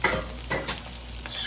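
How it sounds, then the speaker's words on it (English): Shrimp and softened onions sizzle quietly in a pan, with a few soft stirring scrapes over a steady frying hiss, close but fairly faint and without talk. "Come on, onions. Oh, you softy. Let it get soft. Add the shrimp."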